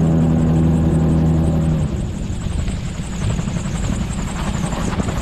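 A gyrocopter engine running during a hover taxi at an airfield, a loud, steady mechanical drone heard close and alone, with a low rotor-like throb throughout.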